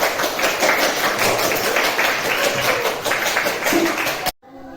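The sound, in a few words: class applauding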